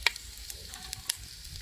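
Garlic pieces and asafoetida frying in hot oil in a pan, a soft steady sizzle with a few sharp crackles and pops throughout, close and fairly quiet, with no talking.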